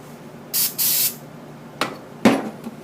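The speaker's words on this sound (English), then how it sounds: "take some brake clean because it doesn't leave any residue" Brake cleaner sprays from an aerosol can onto the tapers of a motorcycle clutch part in two short hissing bursts, followed by two sharp metallic clanks of parts being handled, close and loud.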